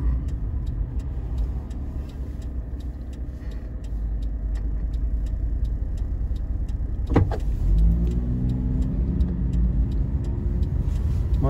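Cars pass steadily along a city street near JR Hakodate Station, a continuous close engine and tyre hum with a louder vehicle surging past partway through.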